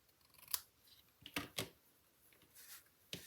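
Scissors snip paper for a card project in several crisp, separate cuts, close and clear against a quiet background.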